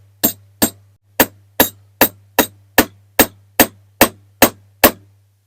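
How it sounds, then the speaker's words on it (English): Eleven to twelve sharp hammer strikes fitting a part onto a Corgi Toys diecast Commer truck during restoration, evenly spaced and close, each a bright metallic tap with quick decay over a faint steady hum. "So it's just a matter of hitting that on with a hammer."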